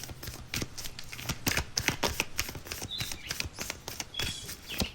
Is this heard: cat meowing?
no